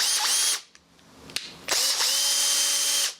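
A repaired cordless drill fitted with new brushes whines at full speed, stops briefly with a few small clicks, then spins up again into a long, loud steady run, close to the microphone.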